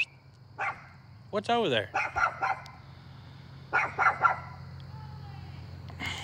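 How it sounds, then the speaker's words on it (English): A dog barks several times in short bursts at close range, with a few yips and a brief whine between, while a person talks nearby over a low steady hum. "what are you barking at?"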